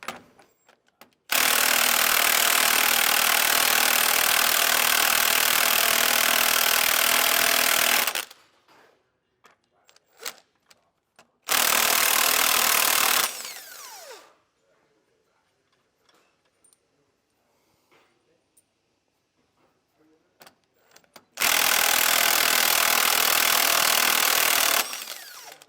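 A power tool runs nuts down the fine threads of U-bolts while a steering stabilizer is fitted, giving three loud, sustained close bursts of whirring, the first about seven seconds long, separated by quiet gaps with small clinks and handling noises.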